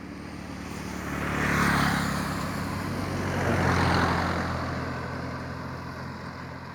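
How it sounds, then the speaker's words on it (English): A vehicle approaching from behind on a road beside a lakeside resort in San Kamphaeng, its engine rumble swelling to a peak, easing, then building again to a second peak before fading, with no talking. "I can hear another vehicle coming up behind."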